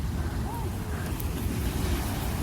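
Sea waves wash onto the shore at Yeongildae Beach in Pohang, South Korea. They make a steady low roar mixed with gusty wind noise on the microphone, continuous throughout with no clear speech.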